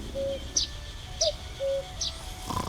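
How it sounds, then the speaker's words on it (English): Cuckoo calls from a video game repeat at a slow, even rhythm, each a short two-note cooing phrase paired with a bright chirp, heard fairly close over a soft ambient background. "I need to get rid of the cuckoo sound."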